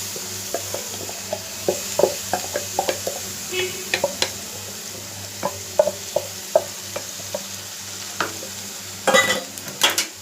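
Grated beetroot sizzles softly in masala while a spoon stirs it, tapping and scraping the pan in an uneven string of close clicks, with a louder clatter near the end.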